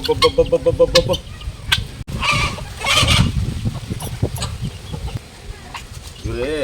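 A sick male turkey calls with a rapid, rolling gobble and clucks close by on a flooded farm after a cyclone, mixed with people talking in the background.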